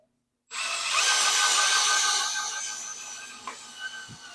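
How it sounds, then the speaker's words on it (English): A Milwaukee power drill driving a meat grinder attachment whirs up suddenly and spins steadily with a high mechanical whine, slowly easing in pitch, with a few small clunks toward the end. "I made an attachment that fits inside here that will hook to my Milwaukee drill and spin this"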